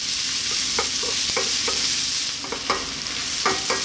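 Zucchini and tomato pasta vegetables frying over lively heat, a steady loud sizzle with repeated scraping strokes of stirring in the pan.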